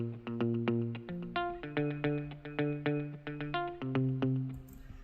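Ample Guitar virtual guitar in strum mode with a long strum time and release, so chords ring out as separate plucked single notes in a steady repeating rhythm, close and clear with no talking.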